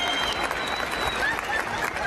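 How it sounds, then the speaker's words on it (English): An audience at a Westside Class of 2024 graduation applauds its award and scholarship winners, a full, sustained burst of crowd clapping throughout. "Let's have another round of applause for all of our awards and scholarship winners tonight"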